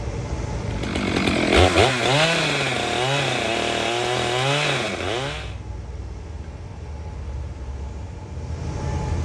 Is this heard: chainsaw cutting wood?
yes